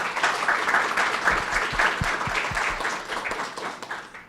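An audience at a university lecture at USP gives a steady round of hand clapping, moderately loud and evenly sustained for a few seconds before it begins to thin out.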